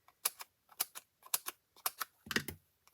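Scissors snipping small paper pieces for a handmade card, crisp close cuts in quick pairs, about five rhythmic double snips and then a rustle, with no talk.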